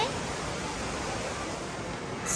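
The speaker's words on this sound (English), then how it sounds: "Now the waterfall, indoor waterfall, it is 35 meter tall indoor waterfall" A 35-meter indoor waterfall in the Cloud Forest conservatory gives off a steady, dense roar of falling water that stays constant and fairly loud throughout.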